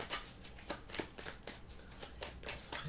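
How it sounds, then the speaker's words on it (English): Tarot cards shuffled by hand in a steady series of crisp riffling bursts, close and fairly quiet, with no talking over them. "Nice clean shuffle, please"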